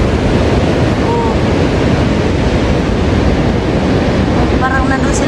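Sea waves wash continuously onto the shore at Bilbao, a loud, steady roar with wind across the microphone and no breaks. A couple of brief faint cries rise above it near the end.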